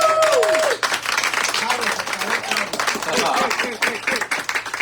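Audience applause at a Spanish-language poetry and visual arts stage event, dense clapping from a crowd filling the whole stretch after a brief spoken lead-in, with cheers and voices mixed in.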